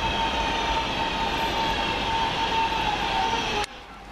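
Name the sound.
British Rail Class 323 train, London Midland Cross City service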